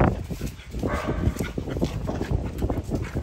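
A young puppy whimpers and gives short yips and barks, close and fairly loud, in a busy, irregular stretch with no clear speech over it.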